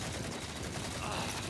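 Dense gunfire from the Red vs. Blue web series, a continuous burst of automatic shots and fusillade filling the whole moment, with speech mixed faintly underneath.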